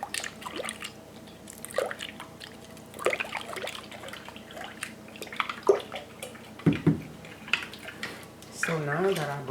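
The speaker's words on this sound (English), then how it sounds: "dissolve the sugar and break the starter into the water" Sourdough starter being broken up by hand in cold fridge water with dissolved sugar, giving soft intermittent wet drips, splashes and squelches at close range, with a brief louder stirring burst near the end.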